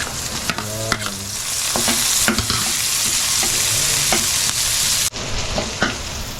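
Garlic and onion sauté in a hot pan with a continuous sizzle, broken by repeated scraping strokes of a spatula and clinks against the metal, with no talking.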